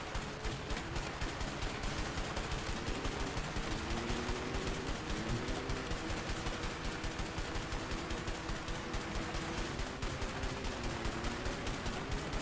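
Continuous rapid gunfire from a firefight in the game A Way Out rattles throughout, dense and unbroken, with a faint engine-like drone underneath.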